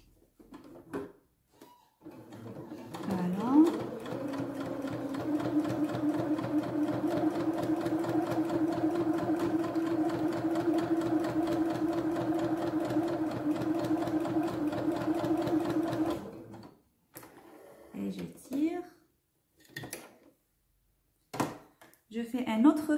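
A sewing machine runs a long straight seam with long stitch length and lowered thread tension, a steady close mechanical whir lasting over ten seconds, followed by short clicks and handling noises with someone talking before and after.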